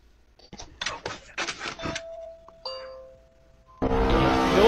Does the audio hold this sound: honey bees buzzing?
no